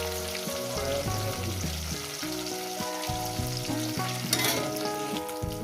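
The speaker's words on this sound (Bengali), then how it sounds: "মাছগুলো আমার ভাজা হয়ে গেছে," Small fish and fish heads fry in hot oil, giving a steady, close crackling sizzle with stirring, while sustained tonal sounds run underneath.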